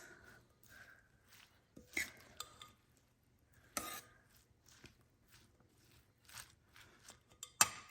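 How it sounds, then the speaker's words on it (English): Raita ingredients mixed in a bowl, quiet spoon scrapes and soft clinks in short irregular bursts with near-silent gaps between them. "So let's give it a quick mix."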